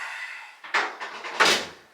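The door of a Samsung clothes dryer is pushed shut, giving a couple of close, dull thumps and knocks with a short rattle between them, no talking.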